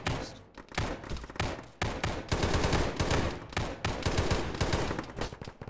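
Rapid bursts of automatic and single-shot gunfire from an Arma military shooter game, ShackTac squad play, loud and near with repeated volleys and short pauses between them, no talking over it.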